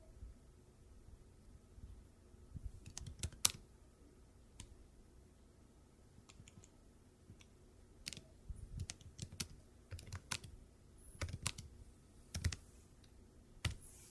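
Typing on a computer keyboard while writing text in the Vim editor, irregular bursts of quiet close-up key clicks and taps separated by short pauses, with no talking.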